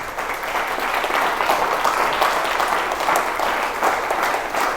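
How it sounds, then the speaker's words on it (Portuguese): Church congregation at a sermon applauds for Jesus, steady dense clapping at full volume throughout, with a slight swell toward the middle. "Vamos dar uma salva de palmas para Jesus?"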